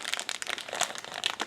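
Thin plastic bag holding Singer M1150 sewing machine accessories crinkles and rustles close up in quick irregular bursts, with no talk.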